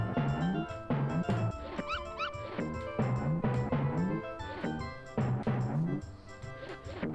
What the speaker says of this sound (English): You'll drop some puppies.